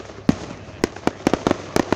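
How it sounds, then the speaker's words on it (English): A Florence Freedom fireworks show in Florence, 2019: a rapid, irregular series of about eight sharp booms and cracks, loud and fairly close, over a low rumbling background. "That's the Florence City fireworks."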